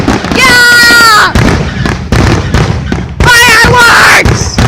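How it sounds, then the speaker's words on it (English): Fireworks whistle upward and burst in a rapid series of loud booms and crackles close by, with excited shouting from onlookers. "Fireworks!"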